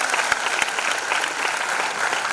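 An audience applauds flute player Rakesh Chaurasia at a foundation anniversary event, dense sustained clapping from a large crowd with a couple of sharper nearby claps standing out.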